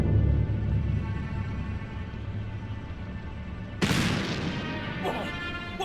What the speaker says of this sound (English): Sounded like a gunshot.